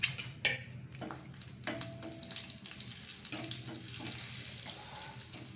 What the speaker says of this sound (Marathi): तेल गरम झालं की त्याच्यामध्ये फक्त आपण तिखट टाकणार आहे छान रंग येण्यासाठी आणि 2 हिरव्या मिरच्या